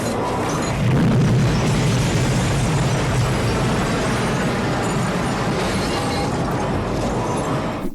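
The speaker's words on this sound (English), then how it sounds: "The whole place fucking blows up, but Norris's sound?" A toy shop blows up in the 1988 film Child's Play, a loud rumbling blast with a heavy low boom early on that gives way to sustained crashing roar and debris noise.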